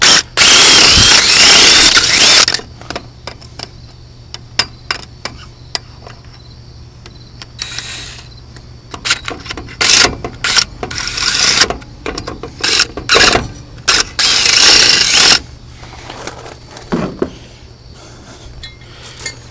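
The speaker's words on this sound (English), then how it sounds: "Let it spin around, run the drill bit in and out." A drill bit whirs and rasps against metal in bursts while deburring a hole in a jack, with scraping and clinking in between and short pauses between passes.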